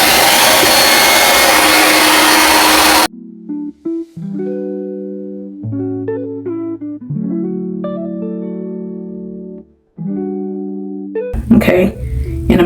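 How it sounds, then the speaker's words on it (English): A hair dryer on its cool setting blows with a loud, even rushing hiss for about three seconds, then cuts off abruptly as tonal electronic music takes over; a short burst of similar noise returns at the very end. "you blow dry your hair, you put it on cool."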